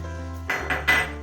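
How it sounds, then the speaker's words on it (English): Spoon working cardamom powder into laddu mixture in a bowl, three close clinking knocks of metal against the dish over a low steady background hum. "Mix it completely with a spoon."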